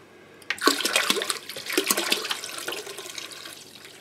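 Water and vinegar pour in a steady, splashing stream into a rust-removal bath holding cast iron, loud and sustained from start to finish with no talking.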